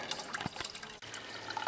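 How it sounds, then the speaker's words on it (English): Water flows steadily through a home-built budget aquaponics system, a continuous close trickle and splash of liquid with small drips, running alone at moderate level with a brief break in the middle. "And we've got maximum water flow here."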